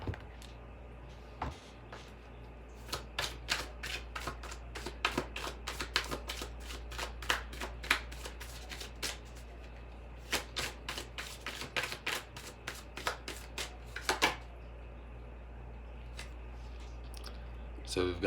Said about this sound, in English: I want to pull like one or two more from like Fountain Tarot and a Goddess Guidance.